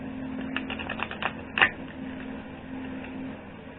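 Tarot cards are shuffled for a reading with soft, close clicking and riffling, including one sharper snap, over a steady low hum.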